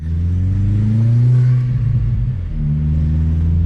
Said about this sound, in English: It sounds so good, the turbo building up.